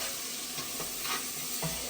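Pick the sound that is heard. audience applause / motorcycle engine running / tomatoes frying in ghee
tomatoes frying in ghee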